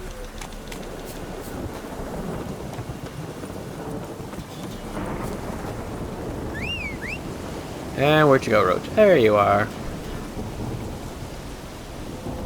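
Steady rainfall and rumbling thunder from a storm in the video game The Witcher 3 run throughout, with someone talking over the downpour and a louder burst of game sounds near the end.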